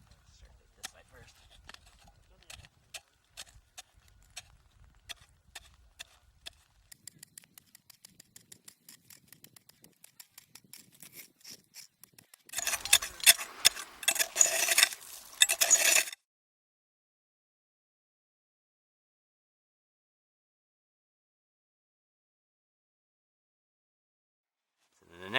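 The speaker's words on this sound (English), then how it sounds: "start chopping through the ice" An ice axe chopping a T-trench into ice on a mountaineering outing, a run of sharp, rapid strikes that quicken and grow louder into a dense burst of heavy chops before stopping into silence.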